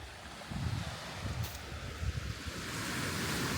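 Waves breaking on a small beach below a Scottish village viewpoint, a steady broadband wash of surf mixed with wind buffeting the microphone, rolling swells rising and falling with no voices.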